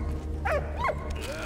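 A dog in the World War I video game Valiant Hearts: The Great War gives two short, close barks about half a second apart, with a steady game background underneath.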